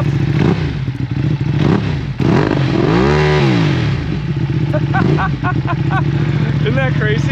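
A 2024 BMW M1000R idling in neutral, then blipped through several sharp revs that rise and fall, loud and close, with people talking over it.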